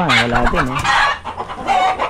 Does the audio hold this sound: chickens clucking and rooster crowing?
yes